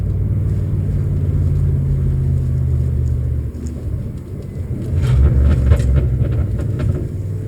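A car's automatic transmission, treated with a stop-slip additive, downshifts into first gear while driving: a loud continuous engine and road rumble with a change in tone midway as the revs and load shift, no talking.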